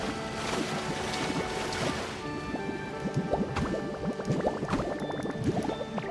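Water splashing while swimming in the game Pokemon Pokopia, a steady wash of surf with repeated small splashes and bubbly plinks growing busier in the second half, no speech.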